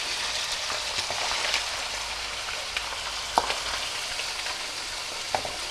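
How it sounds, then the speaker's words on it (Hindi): Ground chicken keema frying in a pan, a steady broadband sizzle with occasional louder pops and crackles, continuous and close throughout with no talking. "इसमें अब मैं इसे ये डाल के इसे पहले फ्राई करूँगी"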